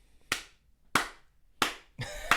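Hands clapping, four sharp, slow claps spaced about half a second apart, close and fairly quiet, the last pair bunched closer together, with no talk.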